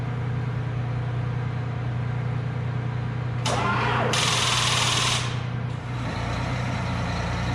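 A red tractor engine cranks and catches as a loud, rough mechanical burst rises over a steady low idle hum, close by with no talk.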